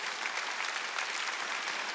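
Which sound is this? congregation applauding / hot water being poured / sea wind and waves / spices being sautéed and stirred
congregation applauding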